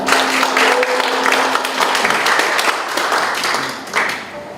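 Sustained, loud applause from a seated audience at a security and diplomacy forum in Korea fills the room, with dense overlapping claps that ease slightly toward the end.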